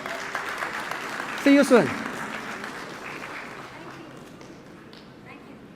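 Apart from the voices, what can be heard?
audience applause at OPPO F3 Plus launch event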